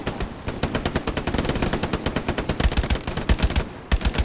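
Sustained machine gun fire in the World War II shooter game Hell Let Loose: long, loud bursts of rapid, evenly spaced shots that ring out close, alone without talk.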